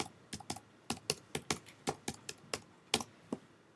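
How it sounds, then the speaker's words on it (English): A web address is typed on a computer keyboard, with about fifteen crisp, separate key taps at an uneven pace, close and fairly quiet, with no voices. "It's going to take me forever to type in the web address."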